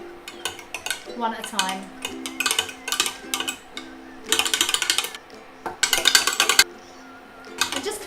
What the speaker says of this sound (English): Keep whisking it constantly until it thickens.